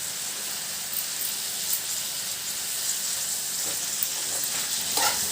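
Garlic cloves and coriander fry in a pan with a steady, soft hissing sizzle and occasional faint crackles, close and continuous, no voices.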